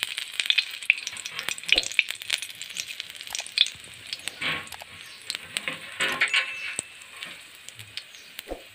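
Sesame and whole coriander seeds sizzle and pop in a pan, with irregular sharp crackles and spits over a light hiss, moderately close and quiet.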